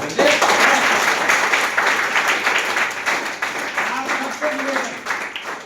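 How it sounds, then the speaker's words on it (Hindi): Dense audience applause from a crowd gathered at a Hindi class, sustained clapping filling the whole stretch, loud and close, with some voices mixed into the clapping. "माँ के सम्मान में ताली बजाइए एक बार।"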